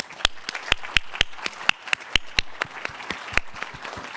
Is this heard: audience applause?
yes